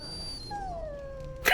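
A dog in the Dragon Age: Origins video game lets out a thin, high, drawn-out whimper that slides downward, close and clear, cut off by a short burst of noise at the end.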